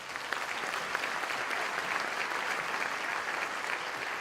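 Steady applause from a large audience at a December undergraduate commencement ceremony, continuous clapping filling the hall for several seconds without breaks or voices on top.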